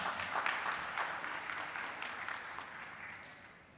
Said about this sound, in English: a round of applause for our three panelists today